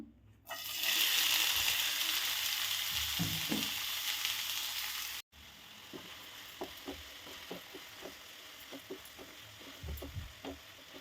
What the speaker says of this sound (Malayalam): ഇനി ഇതിലേക്ക് സവാള ചേർത്ത് കൊടുക്കാം.